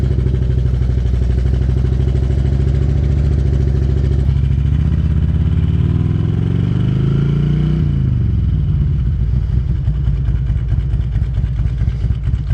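An older touring motorcycle engine runs loud and close, with a steady low idle that revs up and climbs around the middle before settling back to a rumbling idle.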